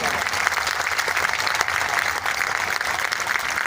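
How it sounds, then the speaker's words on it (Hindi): Audience at a women's college annual function claps steadily and loudly throughout, a dense, continuous round of applause filling the hall. "आप दोनों हाथ खड़े करके जरा ताली बजाइए।"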